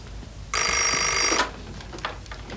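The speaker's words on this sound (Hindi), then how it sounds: "फोन" A telephone bell rings once in a single sustained, loud burst of about a second, followed by quiet room noise.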